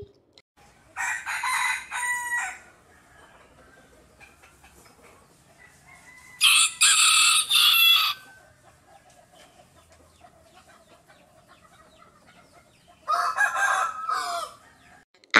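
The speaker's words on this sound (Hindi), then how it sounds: "H फॉर हैन, HEN, हैन। हैन माने मुर्गी।" A hen clucks and a rooster crows in three separate loud bursts spread across a quiet stretch, each call standing alone against near silence.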